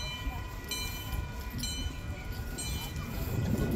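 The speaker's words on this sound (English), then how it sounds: "Oh, there's a train." A train rumbles steadily nearby at the Dole Plantation on Oahu, Hawaii, with a low mechanical roar and faint high whine, building slightly louder toward the end; a voice may be faintly present.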